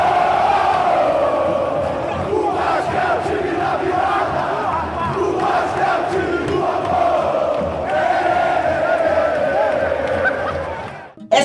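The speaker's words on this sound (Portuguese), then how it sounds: "Você com certeza já deve ter ouvido esse canto lá na torcida do Vasco." Vasco football fans chant together in a stadium, a dense, loud crowd singing in rhythmic unison that keeps going steadily before cutting off abruptly.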